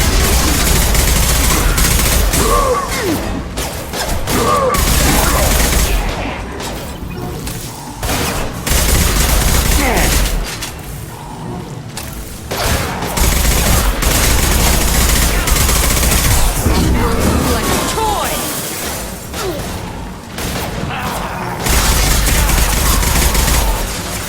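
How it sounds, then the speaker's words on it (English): A Mass Effect 2 firefight after the squad is spotted, with sustained loud gunfire, rapid bursts and heavy booms filling about twenty-four seconds, dipping briefly between volleys, with no speech over it. "We've been spotted. Taking fire."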